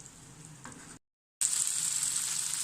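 Spring roll filling sizzles in a pan as it cooks, a steady broadband frying hiss that breaks off briefly to silence, then returns louder and close, with no talking.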